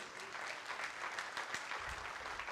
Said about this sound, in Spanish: ¿Cuántos dan un aplauso al Señor por eso?